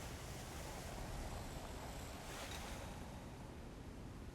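Steady rushing water of a waterfall in the video game Assassin's Creed: Revelations, a constant broadband roar without pauses.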